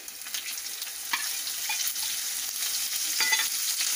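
Green chillies frying in hot oil for Maharashtrian zunka give a steady, close sizzle with small crackles and light stirring scrapes throughout.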